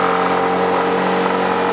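A Yamaha JOG125 scooter engine revs steadily while being ridden, a continuous mid-pitched drone with stable harmonic tones, close and fairly loud, with no voices over it.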